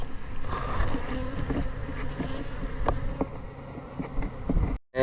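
A swarm of bees hovers and buzzes around a box during a rescue on a slippery roof, a steady, fairly close hum with faint wind and a few sharp knocks.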